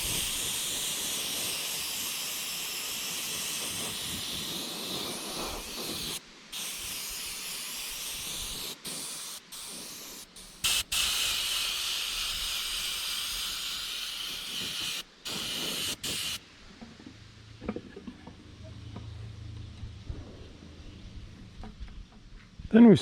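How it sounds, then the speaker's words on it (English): Spray gun hissing paint onto a bass fish replica for taxidermy, darkening its back, in repeated sustained bursts broken by short pauses, then quiet workshop noise with faint talk near the end. "The next step is going to be darkening the back some with the same color I used to antique the fish."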